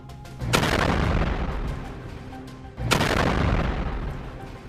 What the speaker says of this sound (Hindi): जहाज के दाईं तरफ कई बार बड़े बड़े धमाके होते हैं।